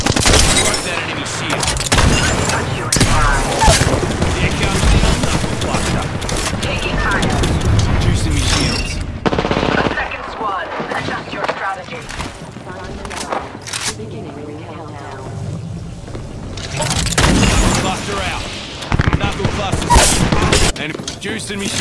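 Apex Legends gunfire in a close firefight comes as loud bursts of rapid shots with mechanical clatter. The shooting is heavy at first, thins out in the middle, then returns in sharp volleys, with a voice talking over parts of it.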